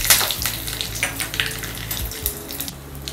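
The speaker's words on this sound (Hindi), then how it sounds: "अच्छी तरह से फ्राई होने देते हैं।" Steady crackling sizzle of mustard seeds, dried red chilli and curry leaves frying in hot oil for a tempering, with small pops and spatters throughout, close up and fairly loud, no voices.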